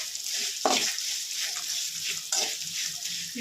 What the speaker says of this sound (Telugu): ఇవన్నీ బాగా మిక్స్ అయ్యేలాగా మిక్స్ చేయాలి.